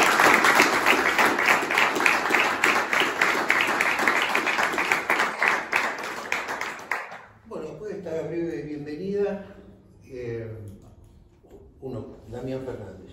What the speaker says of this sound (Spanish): Por anticipado pido un aplauso para eso.